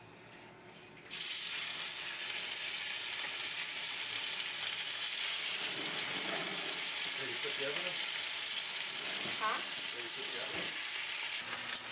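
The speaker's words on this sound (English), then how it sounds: "Now we're going to grab our steaks and we're going to put them in there." Steaks hit a hot pan and sear with a sudden loud sizzle that stays steady and close, with some stirring clatter and faint talk over the frying.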